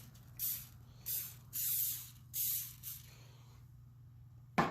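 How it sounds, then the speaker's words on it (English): Olive oil is sprayed onto a cast iron dutch oven in several short hissing bursts, close up, with a sharp clank at the end. "I'm going to hit it with a little bit of olive oil"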